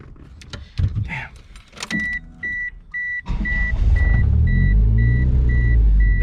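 A Mitsubishi Eclipse DSM car sounds a few electronic chime beeps before its engine catches and starts, then settles into a loud, steady, rumbling idle with the beeps still repeating over it.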